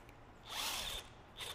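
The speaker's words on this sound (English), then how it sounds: "let's go ahead and take a skid plate off. I got some power tools here." A power drill spins briefly while a skid plate is removed from the underside of a Subaru Outback Onyx XT, a short whirring burst followed by a second quick pulse, fairly quiet and close.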